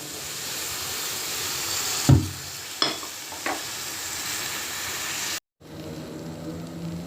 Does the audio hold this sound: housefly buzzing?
no